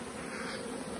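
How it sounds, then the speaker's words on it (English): A swarm of bees in a wood pile buzzes in a steady, dense drone, close and continuous for about a second, with no voices. "The bees are as friendly as they'll be when they swarm."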